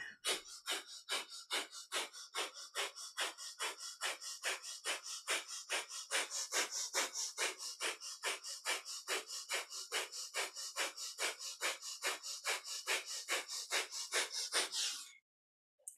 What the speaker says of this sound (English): if breath of fire feels too much for your practice today, slow that breath down.